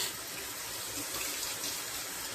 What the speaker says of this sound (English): So I'm just rinsing my brush and getting my brush good and wet